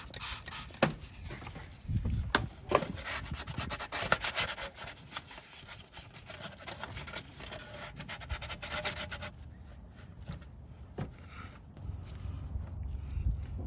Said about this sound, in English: make sure you clean this part right here. You can use sandpaper